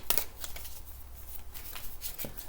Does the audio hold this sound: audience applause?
no